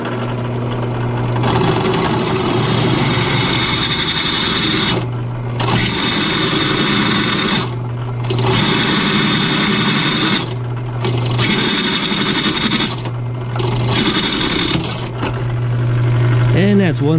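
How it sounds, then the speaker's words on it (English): A cheap Harbor Freight Sawzall reciprocating saw cuts through metal studs in loud, sustained bursts separated by short pauses, the harsh rattling drone sitting close. "My cheap ass Harbor Freight Sawzall."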